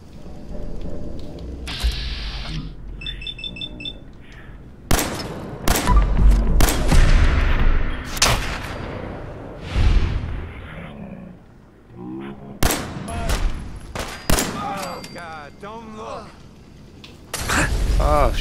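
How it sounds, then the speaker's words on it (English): Gunfire and blasts in the video game Fallout 4, loud sharp bursts recurring irregularly through a busy mix of game noise, with voices talking over parts of it. "Just noises, people screaming and dying, and gunshots"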